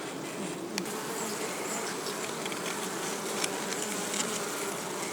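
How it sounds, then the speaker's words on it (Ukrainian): A bee buzzes continuously and close by in a forest, a steady droning hum with slight swells, no voices. "Бджола гудить. Чуть, що бджола гудить."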